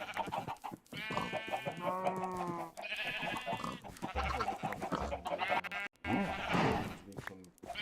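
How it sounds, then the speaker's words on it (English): Minecraft chickens cluck in short, repeated bursts, fairly close and clear, with a few brief gaps between calls. "Every chicken lays an egg every 5 minutes."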